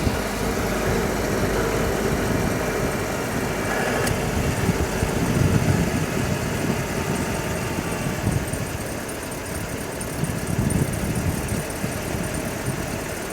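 A Citroen car engine runs at a fast idle with a carburetor being adjusted, giving a steady low rumble and vibration throughout, with no clear change in pitch.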